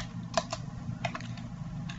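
PHP code is typed on a computer keyboard in short, close bursts of clicking keys separated by brief pauses.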